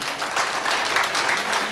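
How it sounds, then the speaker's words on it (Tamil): A debate-show audience claps steadily throughout, a dense, loud wash of many hands with no pauses. "இன்னுமே நல்லா கைதட்டலாம்"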